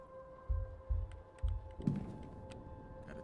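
Typewriter keys struck in the video game The Seance of Blake Manor: a few separate low thunks in a slow uneven rhythm, followed by softer clicks, quiet over a faint steady hum.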